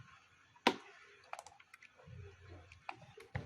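Sparse clicks and taps of computer keyboard keys being pressed while working in Photoshop, one sharp loud click followed by several lighter scattered keystrokes, close and mostly alone with faint low rumble.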